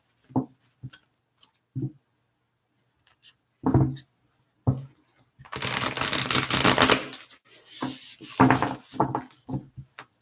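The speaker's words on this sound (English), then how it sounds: "just a few more shuffles here." Tarot cards being shuffled by hand: scattered soft taps and slides, then a dense riffling burst in the middle followed by a few more shuffling bursts, close and fairly quiet.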